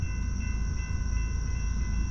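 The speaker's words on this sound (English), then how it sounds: "We got a westbound going across the switch. It just went from track 2 to track 1." A long CSX freight train rumbles past while crossing a track switch, a low continuous roar with faint high metallic squeal tones, steady and fairly close, with no talking.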